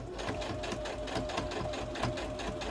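A sewing machine stitches around a button on the cuff of a denim jacket, its close, steady mechanical whir running unbroken through the whole stretch.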